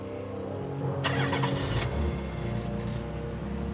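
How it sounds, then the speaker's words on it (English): A family car starts up and pulls away quickly, engine rising in a short burst of revving before settling into a steady mid-pitched drone, fairly close and with no voices. "The kidnapper forced the young sister into the family's car and sped off."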